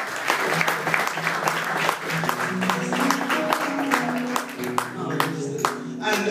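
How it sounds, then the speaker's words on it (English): Lively applause from a church audience at a talk on fashion and what to wear, dense loud clapping throughout with some voices and faint tones mixed in underneath. "Let's give a clap for our girlfriend."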